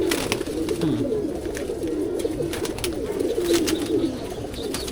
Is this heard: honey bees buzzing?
no